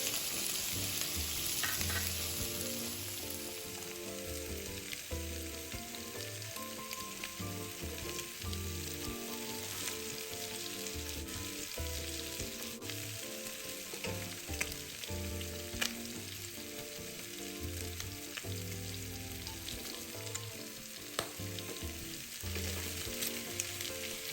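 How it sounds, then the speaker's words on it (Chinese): Rock sugar caramelizing over medium-low heat with chunks of pork belly in a pan, giving a steady, close sizzle with faint stirring scrapes throughout, no voices. "加入冰糖30克，中小火慢慢炒至琥珀色"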